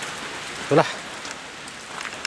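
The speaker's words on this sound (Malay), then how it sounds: "Jadi hujan sekarang ni" Steady rain falls on an eggplant plot of polybags, a constant close hiss across the whole stretch, with a brief spoken word near the start.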